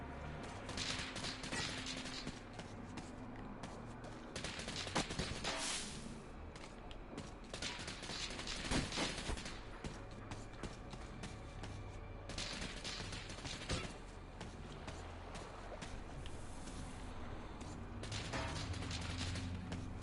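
Gunfire in the video game Metro Exodus crackles in repeated bursts of shots over twenty seconds, fairly faint and spaced by brief lulls.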